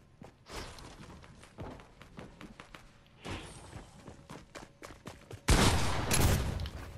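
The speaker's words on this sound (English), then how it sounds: "shoot at me every 2 seconds" Fortnite gunfire crackles in rapid bursts of sharp shots with thumps between them, building to a louder, denser volley near the end.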